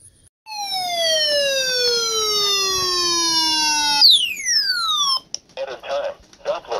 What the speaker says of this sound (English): So our warning was our emergency radio.